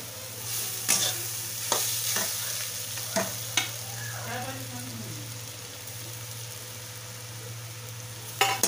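Grated sweet potato frying in a pan with roasted chillies, a soft continuous sizzle broken by several sharp spatula knocks and scraping stirs.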